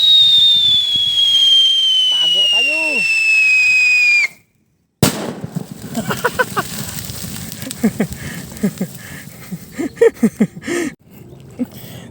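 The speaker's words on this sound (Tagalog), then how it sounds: "ito yung whistle bomb" A long descending whistle bomb firework, homemade in Mindanao, shrieks for several seconds, cuts off, then a burst of crackling pops and bangs follows with voices murmuring underneath.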